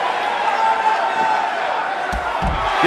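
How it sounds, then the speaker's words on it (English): A capacity arena crowd roars in a WWE 2K19 Extreme Rules Iron Man women's match, a steady wash of cheering with a few sharp thuds and impacts near the end, under a commentator's voice. "This capacity crowd starting to sense the end is near"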